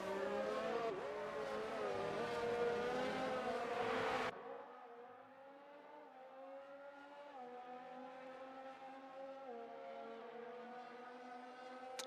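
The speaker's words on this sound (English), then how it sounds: "Oh, I love the aerial cam sound of cars." Race cars in a PC racing game heard from an aerial camera view, a continuous engine drone with a shifting pitch, loud and busy at first, then thinner and more distant after an abrupt drop, with no talking.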